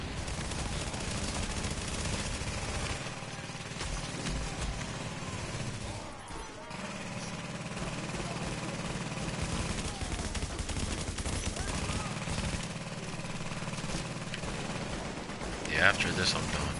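Rapid gunfire from a high-recoil weapon in The Division's Final Stand DLC, a dense continuous stream of shots with a brief pause midway, with someone talking over it.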